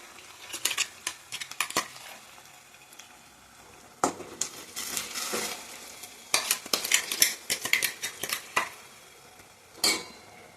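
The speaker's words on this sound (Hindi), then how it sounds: "हरी मिर्ची का कच्चा स्मेल जाने तक क्या है अच्छी तरीके से फ्राई करेंगे इसे।" Coarse green chilli paste frying in a pan, with an irregular sizzle and repeated scraping and stirring strokes of a spoon against the pan, close by and without talk.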